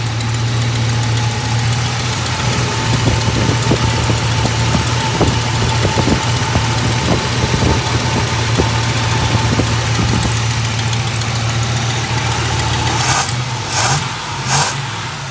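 A 1964 Chevrolet Malibu SS V8 idles after a timing adjustment, a loud, steady, close lumpy rumble with faint ticking and knocking pulses running through it, ending with a few brief sharp noises.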